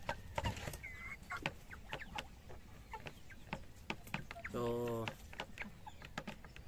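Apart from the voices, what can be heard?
chickens clucking on a farm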